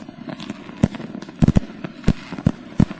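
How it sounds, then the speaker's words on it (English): New Year's Eve fireworks crack across Munich, with about ten sharp bangs at irregular intervals. Some come in quick pairs, and they are loud against a quieter background of distant pops. "New Year's Eve celebrations on December 31st, all over the city with fireworks and various parties."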